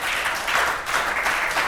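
An audience claps and applauds in a large hall at a motivational speech, a dense, continuous wash of many hands with no single claps standing out, loud and sustained throughout.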